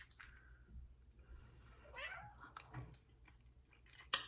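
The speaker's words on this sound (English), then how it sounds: "My cat." A house cat meows near a person eating turkey meatballs at home, giving a couple of short, faint mews amid quiet room noise, then a sharp close clatter near the end.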